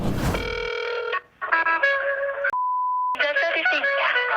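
A telephone call to a customer service line produces a series of electronic tones, a steady single-pitch beep and melodic ringing tones, clear and alone without speech.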